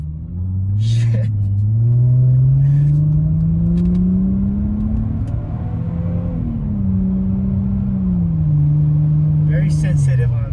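A Mercedes-Benz C300 W204 fitted with a Pedal Commander throttle controller in Sport Plus mode accelerates, its steady engine drone rising and falling in pitch through gear changes, loud and close from start to finish.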